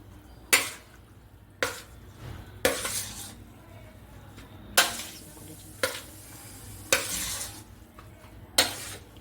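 A spoon stirs thick batter of grated bottle gourd, semolina and soaked flattened rice in a metal pot, giving eight sharp scraping strokes at a steady rhythm, close and fairly quiet, with no voices.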